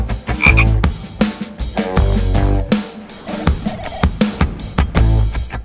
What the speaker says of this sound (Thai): อันนี้คือเป็นกบสแตนดาร์ดที่ตลาดนิยมทั่วไปเลยครับผม